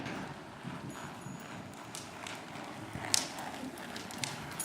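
A horse ridden saddle seat style moves with a steady clip-clop of hooves, fairly faint and continuous beneath a broad, hissy arena ambience.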